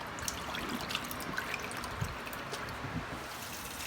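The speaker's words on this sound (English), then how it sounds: "And just a final rinse." Water trickles and splashes softly and steadily while a cleaned, salted catfish is given a final rinse.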